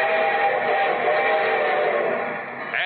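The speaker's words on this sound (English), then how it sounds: "And here comes our star-studded show train." A train sound effect from an old Railroad Hour radio broadcast, with a loud, steady rumble and droning horn-like whistle tones sustained throughout, on lo-fi band-limited audio.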